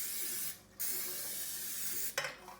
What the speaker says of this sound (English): We're going to spray some non-stick spray on the edges